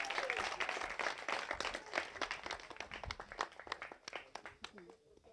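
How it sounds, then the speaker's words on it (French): Applause and clapping from a crowd at an election campaign gathering for the 2018 legislative elections in Akanda, a few voices mixed in, steady at moderate distance and slowly thinning toward the end. "Applaudissez pour maman Marie-Jeanne."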